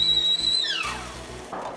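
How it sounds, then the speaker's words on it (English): A stovetop kettle whistles steadily with a high, shrill tone as water boils for rose tea, then the pitch slides downward and breaks off into a softer hiss. "Once the kettle starts whistling, you know you're ready to go."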